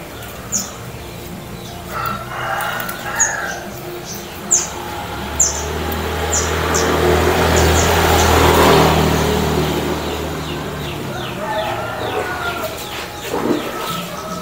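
Bangkok chickens sunning in the morning make scattered clucks and short chirps, some near and some farther off, while a low vehicle rumble swells and fades midway.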